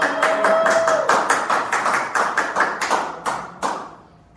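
Audience applause at a 2021 Christian award ceremony: a run of sharp, fairly regular hand claps, close and moderately loud, thinning out toward the end, with no talking.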